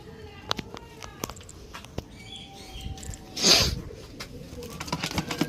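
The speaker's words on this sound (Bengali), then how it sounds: "সো রানাঘাট থেকে বালুরঘাট এই হচ্ছে পায়রা।" Pigeons coo softly nearby while being handled and packed for delivery, with scattered sharp clicks and knocks and a brief louder rustling burst midway.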